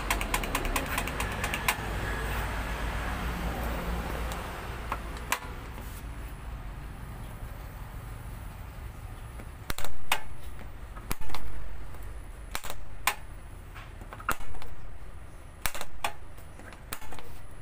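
A loose motorcycle seat lock is tapped with a tool to fix it. After a stretch of steady background hiss, about seven sharp, close knocks ring out at irregular intervals, each with a short decay.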